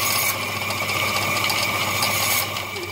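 A band saw cuts through wooden dowels with a steady, loud mechanical whir and ratcheting drive noise, a brief higher rasp at the start and again near the end.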